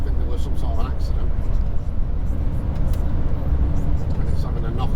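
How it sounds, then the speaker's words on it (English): A car driving in heavy morning traffic near the QE2 bridge after an accident, a constant loud engine and road rumble filling the whole stretch, with a person speaking over it. "don't want to be in that traffic."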